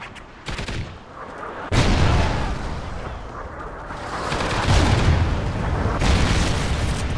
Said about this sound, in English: Friendly Trinity rocket sound and inbound